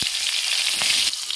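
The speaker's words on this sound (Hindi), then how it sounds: "इसके बाद हम दे देते हैं हींग, देख रहे हैं ये हमारा तड़का है।" Cumin and asafoetida tempering in hot oil for spinach with garlic, a loud, close, steady hiss and crackle that goes on throughout with no talk over it.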